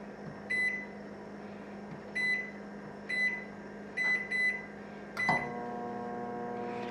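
Several short keypad beeps from a microwave oven, then a click and the low steady hum of it starting to run.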